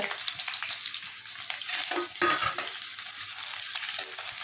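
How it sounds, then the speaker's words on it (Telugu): Onion frying in about three spoonfuls of hot oil, a loud, dense sizzle with stirring scrapes running throughout, no talking. "మూడు చెంచాల నూనె ఆయిల్ వేడెక్కింది ఫ్రెండ్స్ ఇందులో వచ్చేసి ఒక ఉల్లిపాయ"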